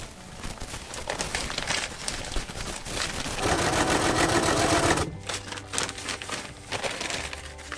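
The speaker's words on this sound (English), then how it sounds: "I'm struggling with the sewing machine, but being the first time, I'm okay with where I'm at now." Sewing machine stitching a Cuben fiber zipper pouch, with a steady run of rapid mechanical stitching that swells louder in the middle, then breaks into short, uneven bursts toward the end.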